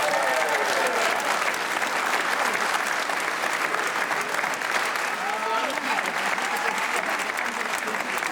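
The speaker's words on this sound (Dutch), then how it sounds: "Geef ze een applaus." Loud, continuous audience applause and crowd cheering at a dance contest for the winning couple, dense clapping sustained throughout with voices calling out inside the roar.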